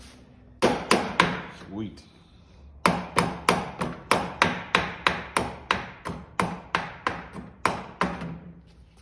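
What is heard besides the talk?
hammer beating on an old mower part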